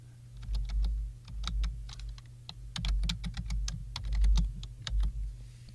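Rapid, close computer keyboard typing as a Google search for Notepad++ is entered, an uneven run of crisp key clicks with no voices.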